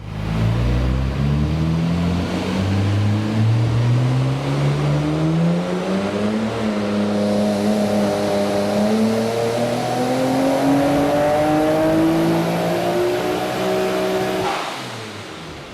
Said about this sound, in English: the car is doing pull after pull and nothing's going wrong on the car